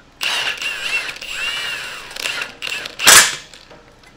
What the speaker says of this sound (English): I use my heavy duty Milwaukee Impact.